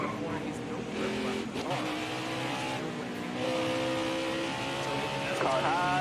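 Race cars in a stock-car racing video game roar past one after another, engine pitch sweeping up and down as they pass, loud and continuous with overlapping motors.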